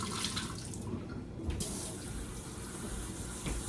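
Water from a pot of string beans pours out into a kitchen sink in a continuous rushing, splashing stream. It sits close and runs without a break, with a slight shift in its splash partway through.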